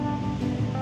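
Strong waves roll against the layered cliffs of Tojinbo on a very windy day, a steady loud wash of surf and wind with no voices.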